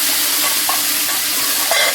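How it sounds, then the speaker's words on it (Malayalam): Boiling hot water poured into a hot pan meets a loud, steady sizzle and steamy hiss that runs unbroken throughout, with a couple of faint utensil knocks, close and alone. "വെള്ളം ചൂടുള്ള വെള്ളം ഒഴിക്കുക, തിളച്ച വെള്ളം."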